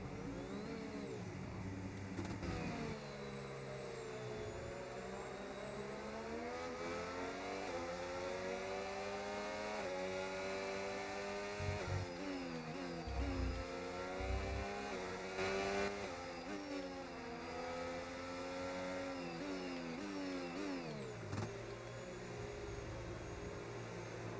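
Formula 1 cars from a racing video game on a formation lap before the 2025 Bahrain Grand Prix, several engines droning and rising and falling in pitch together, steady and continuous with occasional louder passes.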